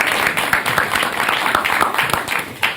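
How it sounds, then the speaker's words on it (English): Dense applause from a crowd at a bill signing ceremony, steady and fairly loud, with many overlapping claps running throughout. "Clapping for people?"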